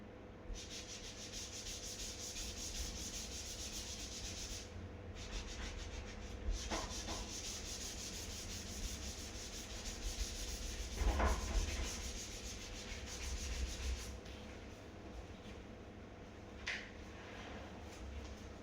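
Handwritten working being rubbed out on paper, a steady close scratchy rubbing that carries on almost without pause, with a few brief louder scrubs and no talk.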